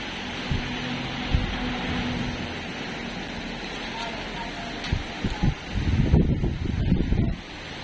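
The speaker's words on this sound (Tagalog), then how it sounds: "Lakas na ng hangin dito" Strong, gusty typhoon wind roars and buffets the microphone continuously, with rustling and a few sharp knocks, building to heavier blasts near the end.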